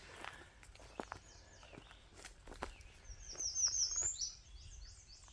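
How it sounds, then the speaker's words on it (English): A bird sings a series of quick, high chirps outdoors among apple trees, faint and somewhat distant, over soft footsteps and rustling. "Listen to that bird."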